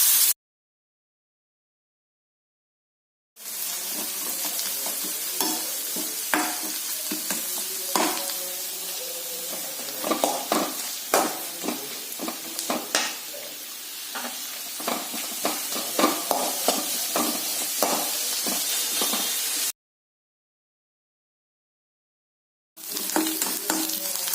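Onions fry for biryani with a continuous crackling sizzle while a utensil stirs and scrapes the pan in irregular strokes, with quiet gaps before and after.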